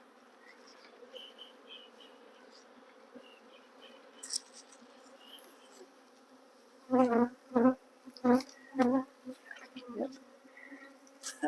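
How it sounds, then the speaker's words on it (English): Honey bee swarm buzzing steadily at low level throughout, with a few louder bursts of sound near the end and a brief spoken word. "I have several thousand bees sitting."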